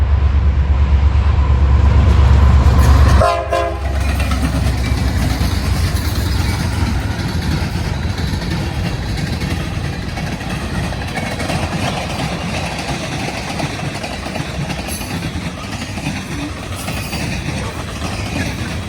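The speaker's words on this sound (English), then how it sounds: "We then see a fast, rerouted CSX M652-02 with a nice SD70 Mace leader." A fast CSX freight train led by an SD70 Mace locomotive rolls past up close, a loud steady roar of engine and wheels with a brief horn-like tone near the start, continuing as a dense rumble throughout.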